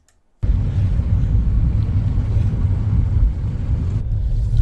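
A car being driven, heard from inside the cabin as a loud, steady low engine and road rumble that starts suddenly after a brief silence and continues unbroken.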